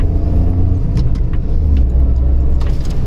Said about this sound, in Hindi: मैं अपनी गाड़ी से ही यहाँ पर आया हूँ।